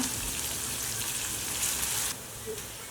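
Onions and cashews frying in a pan for pulao, giving a continuous bright sizzle close up that drops slightly near the end, with no voices.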